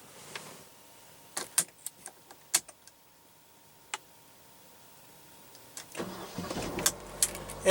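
A 2015 Mercedes-Benz SLK with a 1.8-liter turbocharged inline four-cylinder being started: scattered clicks and ticks in a quiet cabin, then the engine catches and settles into a busy, rising idle.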